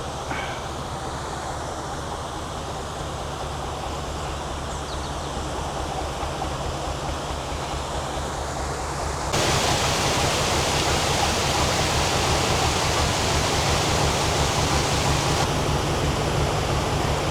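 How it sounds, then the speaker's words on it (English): Heavy water rushes and roars steadily as it pours into a canal lock chamber, growing noticeably louder partway through and staying constant to the end. "Quite a bit of water coming in behind us."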